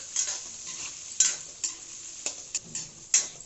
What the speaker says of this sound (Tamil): வெங்காயமும் சேர்த்துக்கலாம். நல்லா வறுத்துக்கலாம்.